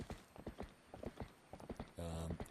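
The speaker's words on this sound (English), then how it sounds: "when you use horse grass, it allows you to call Epona" Hooves of the horse Epona galloping in the video game The Legend of Zelda: Twilight Princess, a quick rhythmic clip-clop that ends in a short whinny, close and clear.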